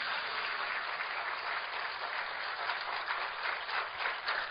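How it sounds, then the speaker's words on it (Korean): A Korean church congregation applauding to give glory to God: dense, sustained clapping from many hands, steady and full throughout with no voices on top. "다시 하나님께 영광의 박수"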